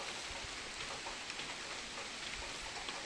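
Steady, dense rainfall hisses evenly and continuously outdoors, alone with no voices.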